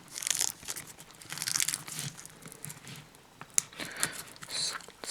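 Saran wrap plastic around a book crinkles and tears in repeated bursts as it is pulled open by hand, close and crisp, between quieter pauses.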